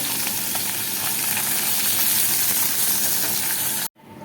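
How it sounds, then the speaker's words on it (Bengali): Fish frying in hot oil in a home kitchen, a loud continuous close hiss and sizzle that cuts off abruptly near the end. "আমি মাছগুলোকে ভেজে নিচ্ছি বলা মাছগুলোকে হালকা হালকা করে ভাজবে"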